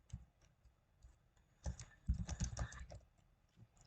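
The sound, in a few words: typing on a computer keyboard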